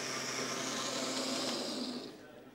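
Kitchen blender running with water and olive oil, a loud steady motor whir that holds for about two seconds and then cuts off abruptly, leaving quiet room tone.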